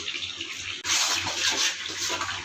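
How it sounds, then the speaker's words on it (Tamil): Water pours and splashes into a cooking pan of sautéed ingredients for Kerala-style fish pollichathu with a sudden hissing rush, close and fairly loud, continuing steadily after the first gush. "கொஞ்சம் தண்ணி ஊற்றிக்கலாம்"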